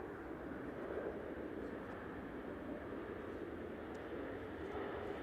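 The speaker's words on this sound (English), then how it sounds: "That's Ryanair from Brussels Charleroi just rolling out" A Ryanair jet from Brussels Charleroi rolls out on the runway at Manchester Airport, giving a continuous, fairly faint engine roar heard alone in the distance.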